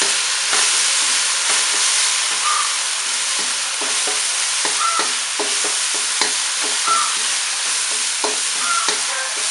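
Fresh shiitake mushrooms and spaghetti stir-frying in a pan with a splash of pasta water, a steady loud sizzle with regular scraping stirs of a spatula throughout.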